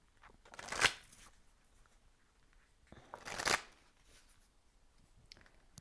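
Messages of Love oracle cards being shuffled in two distinct riffling bursts a few seconds apart, close and crisp against a quiet background.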